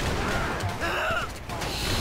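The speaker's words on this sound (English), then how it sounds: "Huge explosion!" A big explosion in Grand Theft Auto V during a police chase, a dense broadband roar that fills the whole two seconds with a thick low rumble, loud and close, with a voice talking over it.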